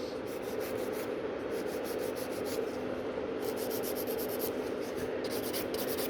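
Continuous rasping scrape of a hand nail file working over gel nails during a manicure, close and steady with faint rhythmic strokes and no talk.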